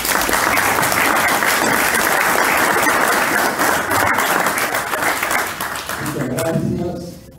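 An audience gives loud, sustained applause welcoming an author at a book presentation, a dense roar of clapping that continues throughout and tapers near the end as a voice begins.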